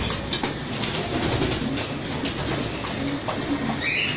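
Homing pigeons let loose in an open flying area of a loft, a steady rumbling flutter and busy bird noise with a rhythmic clatter, fairly loud and continuous, no voices.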